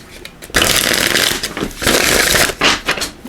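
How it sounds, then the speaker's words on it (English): Tarot cards are shuffled by hand in a few quick riffling bursts with short pauses between, close and fairly loud. "So let me just shuffle these up."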